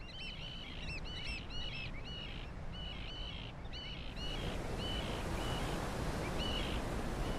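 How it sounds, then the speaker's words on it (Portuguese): Oystercatchers call along a South African shore. Their repeated shrill piping notes come in quick overlapping bursts over a constant roar of surf, loud early on and fainter later as the wash of the waves swells. "Agora, há ostraceiros famintos com os quais precisam lutar."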